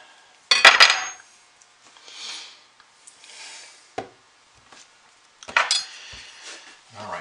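A knife slicing through a column pour soap loaf, with a few separate cuts and clunks spread across the stretch: a loud near one at the start, then softer scrapes, a sharp tap, and another firm cut near the end.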